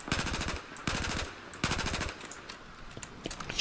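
Automatic rifle fire in Battlefield 4, three quick bursts of rapid shots with sharp, loud reports, followed by quieter scattered distant pops, no voices.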